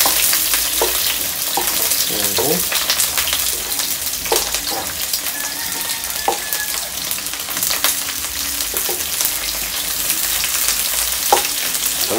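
Food sautés in a pot with a steady, close hiss of frying that runs the whole time, broken by a few light stirring clatters.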